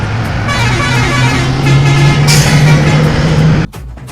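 A loud bus horn blares a sustained musical tone over engine rumble, holding for several seconds before cutting off abruptly, on an Udupi–Mangalore route bus.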